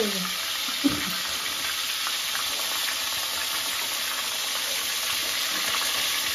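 Pointed gourd fries in a pan with a quiet, steady hiss of oil, opening with a single knock against the pan before the sizzle carries on alone.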